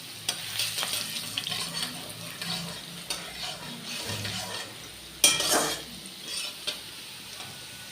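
Food cooking in a pan is stirred, with soft scraping strokes over a low sizzle and one louder clatter partway through.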